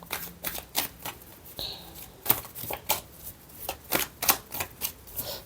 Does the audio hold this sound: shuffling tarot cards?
yes